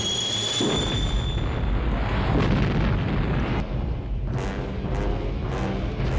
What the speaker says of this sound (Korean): 위기의 상황에서 인터셉터가 폭발하며 악당들을 날려버립니다.